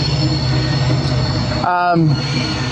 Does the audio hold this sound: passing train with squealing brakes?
yes